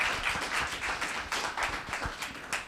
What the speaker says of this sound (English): So how about a hand of applause for Chloe,